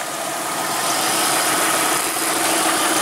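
A car engine runs steadily after being started for a test, giving a broad, even hum with a faint rattle that stays constant at close range.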